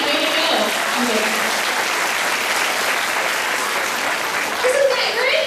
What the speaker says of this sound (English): let's give her one more big hand.